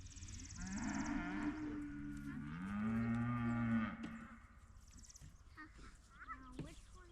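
Cattle at a farm fence let out loud, drawn-out moos, one call swelling and then fading, while people chat quietly nearby.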